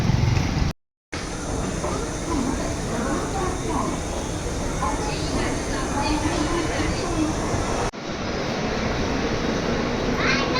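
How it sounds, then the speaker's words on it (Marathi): A train rumbles along steadily with a loud, continuous roar and rattle, broken briefly by a short silence, while people talk faintly underneath. "इकडनं आपले ट्रेन आहे, रिझर्वेशन आहे."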